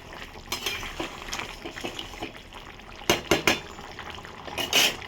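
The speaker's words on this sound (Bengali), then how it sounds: "1 চামচ ঘি দিয়ে এটাকে নাড়বো।" Cauliflower and potato stirred with ghee in a pan, a spoon scraping and knocking against the metal in irregular strokes, with a few sharper clatters amid a soft sizzle and no talking.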